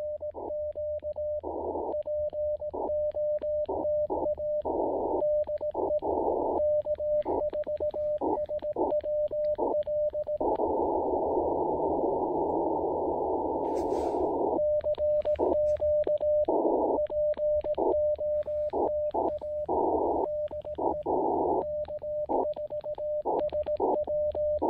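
Morse code from a portable ham radio at a field activation with a homemade multi-band antenna: a steady tone keyed on and off in short dots and longer dashes, with a brief long unbroken tone midway, over faint static hiss.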